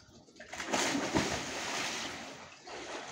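A person jumps into a chlorinated backyard swimming pool, making a loud whooshing splash that churns and fades, with bystanders reacting in surprise nearby.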